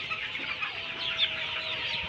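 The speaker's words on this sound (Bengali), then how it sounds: "আজকে আপনাদের দেখাবো আমার কয়টা ফার্ম এবং কয় সেটে কোন ধরনের মুরগি আছে।" Chickens about forty days old cluck inside a poultry farm shed. Soft, scattered clucks and small calls overlap at a moderate distance against a quiet, steady background, with no voices.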